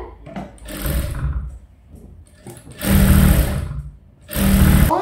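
A sewing machine stitches a blouse in short bursts, three runs of rapid whirring needle clatter separated by brief pauses, close and fairly loud.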